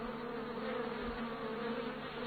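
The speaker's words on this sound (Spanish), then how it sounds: "las abejas tratan de atacarle y llevarlo fuera de la colmena." Honeybees buzzing inside a hive, a steady dense drone of many wings holding at an even level with no pauses and no voices.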